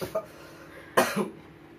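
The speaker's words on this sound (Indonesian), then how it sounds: "Buset batuk." Two coughs, a short one at the start and a louder, harsher one near the middle, followed by a quiet throaty rasp.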